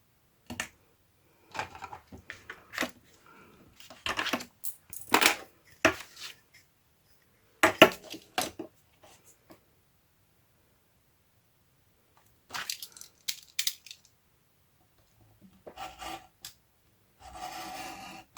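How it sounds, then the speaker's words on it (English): A blade scrapes and rasps through paper along a ruler while a tunnel book journal is being made, several short scratchy bursts separated by quiet gaps, close and fairly soft. "But I have to cut a slit somewhere over here."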